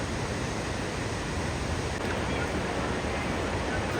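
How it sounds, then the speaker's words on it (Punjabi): A waterfall spills into a river below at Hemkunt Sahib, a steady, even rush of falling water held at a soft level with no breaks. "ਬਹੁਤ ਹੀ ਪਿਆਰੇ ਪਿਆਰੇ ਝਰਨੇ ਥੱਲੇ ਨਦੀ ਆ ਜਾਂਦੀ ਹੈਗੀ"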